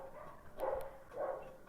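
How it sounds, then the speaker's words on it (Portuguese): A neighbor's dog barks twice from some distance, muffled and moderately faint over a quiet room background. "tem cachorro do vizinho aqui"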